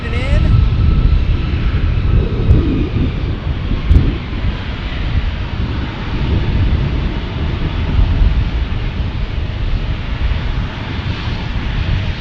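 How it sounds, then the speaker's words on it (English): An Airbus A321neo airliner from Chicago roars steadily at San Diego airport, a broad, sustained jet rumble mixed with wind buffeting on the microphone. "A321neo from Chicago"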